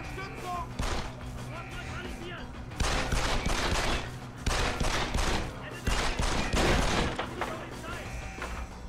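Video game gunfire in repeated rapid bursts, loud and close, rattling in clusters across the whole stretch with brief lulls between volleys, a voice talking over it at times.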